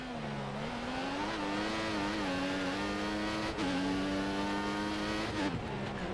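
Formula 1 race car engine from the F1 2014 video game, Malaysia round in career mode, droning loudly and steadily at high revs with pitch shifts between gears, close and continuous throughout, no talk.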